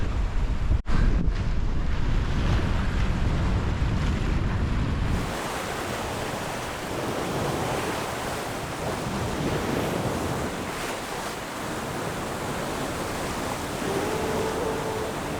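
Strong 26-knot wind roars across the microphone while a sailboat runs through waves in the Scottish sounds, with rushing water and gusts loud and constant throughout.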